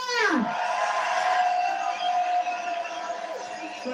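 A farmers' protest crowd in London cheering: a burst of whoops and shouts rises, then settles into a sustained roar of voices at a moderate distance.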